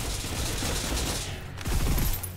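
A turret fires a steady, loud, continuous stream of rapid shots in Snowbreak: Containment Zone on hard mode, with a brief dip before a heavier burst resumes.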